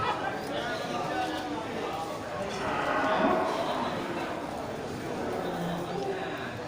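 Cattle at a busy livestock market, with low, indistinct mooing mixed into a dense crowd murmur and general market noise, steady throughout and moderately distant.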